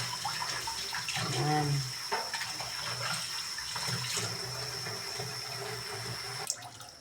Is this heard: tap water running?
yes